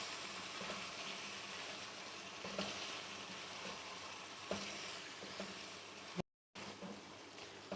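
Chicken white karahi with cream stirred in a pan, a close, steady low sizzle with scraping spoon strokes and a brief dropout of silence near the end.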